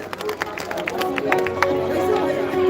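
An audience clapping at the IITF 2024 trade fair at Bharat Mandap, Pragati Maidan, Delhi: scattered, fairly close claps building into a crowd murmur, mixed with a voice speaking.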